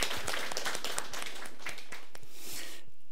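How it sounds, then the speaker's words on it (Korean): Applause of encouragement from a church congregation fills the room, dense, continuous clapping from many hands that fades out at the end. "다 같이 박수를, 격려의 박수를"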